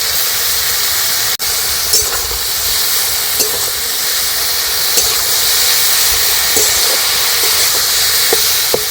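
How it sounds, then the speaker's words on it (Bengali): Chopped potato, carrot, beans, green chilli, cabbage and grated onion frying in a pan for veg patties, a steady loud hiss and sizzle with occasional light scrapes and clicks of stirring. "এইভাবে নাড়াচাড়া করে সবজিগুলো ভেজে নিচ্ছি।"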